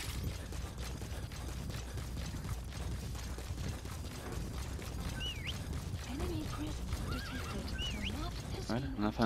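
A horse in the video game Metal Gear Solid V whinnies several times over clip-clopping hooves and game ambience, with a voice talking over it.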